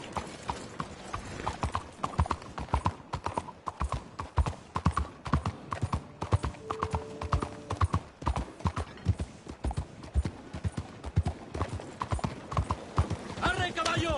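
Horse hooves clip-clop steadily in Red Dead Redemption 2, with a continuous rhythmic trot throughout, with occasional voices and a faint whinny near the end.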